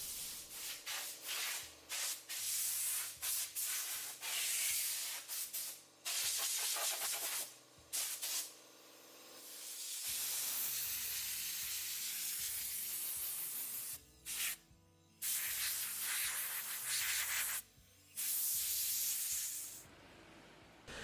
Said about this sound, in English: I used forced air to get in between the seams of the panels and any corners, the vents of the grills